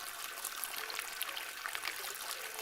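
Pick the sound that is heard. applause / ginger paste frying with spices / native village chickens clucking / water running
water running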